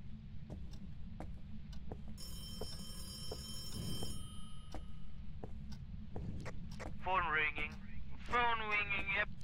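An electronic telephone rings in an online video game played on nightmare mode, with bright warbling bursts late in the clip over a low steady hum, mixed with other game sounds while people talk.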